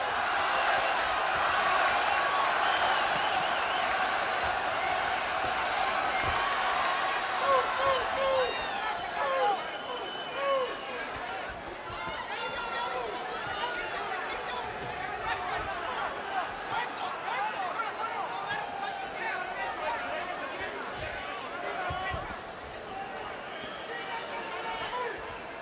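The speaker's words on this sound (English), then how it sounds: "And the crowd comes alive." Boxing crowd at a Chavez fight, a dense roaring hubbub of cheering and shouting that swells loud at the start and then holds steady, with a commentator talking over it.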